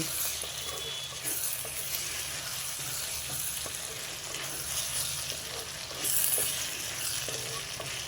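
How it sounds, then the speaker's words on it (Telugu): Potato curry cooking in oil is stirred in a pan, giving a continuous soft sizzle and frying hiss, with faint scraping stir sounds now and then and a brief louder burst of sizzling near the end. "ఒకసారి కూర కలుపుకుందాం. నూనెలో ఆలుగడ్డ తొందరగానే మగ్గిపోద్దండి."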